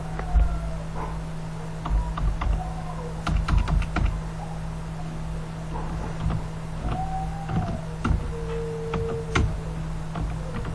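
Quick, irregular clicking of computer keyboard keys as text for an e-commerce website is typed, with a low steady hum underneath.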